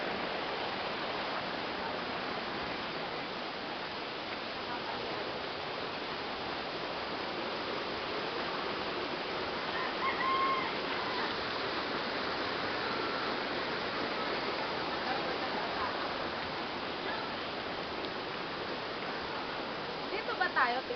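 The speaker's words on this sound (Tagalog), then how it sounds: "Lakas ng alon." Strong ocean waves roar in a continuous broad wash of surf, loud and close, with no distinct breaks, filling the whole stretch with steady noise.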